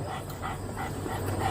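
A police dog barks and yips in short repeated bursts amid a noisy outdoor scene during a chase, the barking moderately close and steady.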